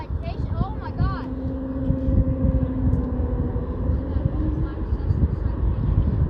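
An Icelandair Boeing 737 MAX 8 jet arriving at O'Hare, a steady broadband engine roar with a faint whine, moderately loud throughout with people talking over it.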